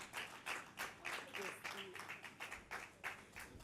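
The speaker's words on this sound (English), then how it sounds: "Can we remain standing while we give a round of applause?" Sparse, fairly faint applause rises from the audience at the opening of a chemistry symposium, a few hands clapping in uneven bursts while a voice speaks over them.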